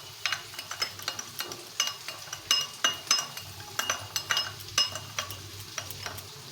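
Soy sauce and vinegar get mixed into pasta in a pan, with a soft sizzle beneath repeated clinks and scrapes of a utensil against the pan in an uneven stirring rhythm, close and without speech.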